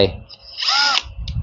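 An old Bosch brushed-motor electric drill, a carbon-brush model, whirs up for about half a second in one short, close burst. Faint low voice-like sounds come before and after it.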